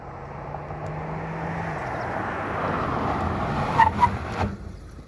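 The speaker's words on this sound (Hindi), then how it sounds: "मैं सडन ब्रेकिंग अगर लेता हूँ, ये देखो" A Tata Sierra car brakes suddenly from 60 km/h: a steady interior road and engine drone rises, then tyres and cabin give a few short thumps and squeaks as the car stops.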